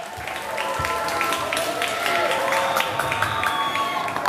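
A school audience at a junior high student speech showcase claps steadily, a dense wash of applause with some scattered crowd voices, sustained and fairly loud throughout.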